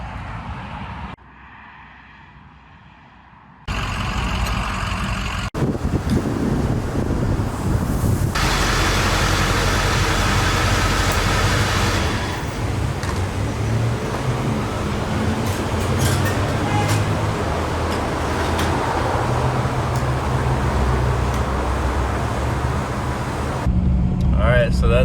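A 2007 Ford F550 truck with a 6.0 Power Stroke diesel engine rumbles steadily and loudly for most of the stretch, a dense broadband roar that follows a quieter opening segment.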